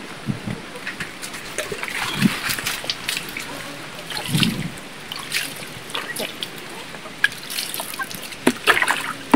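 Water trickling and splashing while worms are washed in a garden setting: soft, intermittent dribbles and sloshes close by, with a few brief voices in the background.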